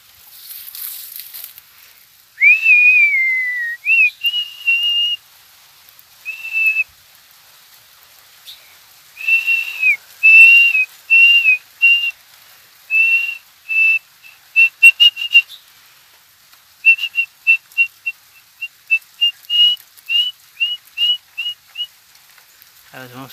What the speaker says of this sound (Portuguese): Vou assobiar para vocês verem ele ficar enfesado.